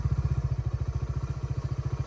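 A motorcycle engine runs steadily close by on a mountain road between Bandarban and Thanchi, its rapid, even thumping pulse holding through the whole stretch with a faint clatter and no voices.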